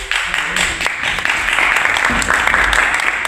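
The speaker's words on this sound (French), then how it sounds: "on t'applaudit aussi" Audience applause for a performer named LMC at a 2025 casting event held at the Centre Paulette Adios Lacpatia in Le Port, a steady dense wash of clapping lasting the whole moment with faint voices mixed in.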